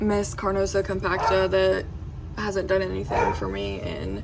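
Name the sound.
dogs barking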